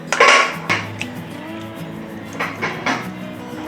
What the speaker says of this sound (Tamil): இப்போ எக் வாஷ்க்கு நம்ம முட்டையை ஃபஸ்ட்டு உடச்சி ஊற்றிடலாம்.